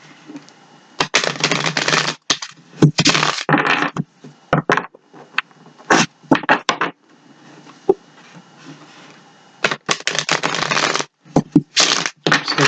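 Tarot cards being shuffled by hand in repeated bursts of crisp riffling and flapping, close and loud, separated by brief quiet gaps.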